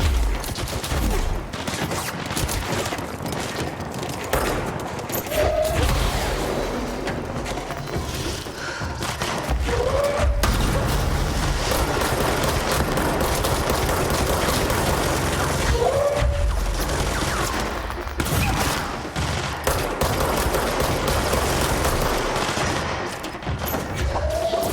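Automatic gunfire in Control rattles in sustained bursts over a dense combat din, with occasional thuds and crashes, loud throughout.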